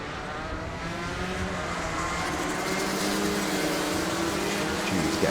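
Rotax 177 racing karts run a formation lap at a kart circuit, a dense, steady buzz of several two-stroke engines droning together at moderate distance, holding a constant roar with no talk.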